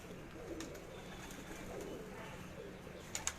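Lakha breed pigeons cooing softly at a loft, a low steady murmur with a few faint sharper chirps near the end.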